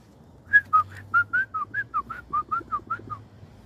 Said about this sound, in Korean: 또한 새소리